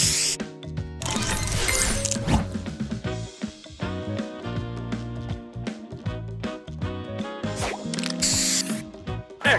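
A spray booster effect in the Match Masters game gives bright hissing spray bursts mixed with chiming, tinkling game tones and short mechanical clicks.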